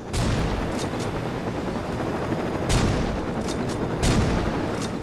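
Shotgun blasts in the video game Saints Row 2, several loud booming shots spaced irregularly over a dense, noisy game background.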